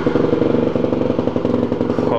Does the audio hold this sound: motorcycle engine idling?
yes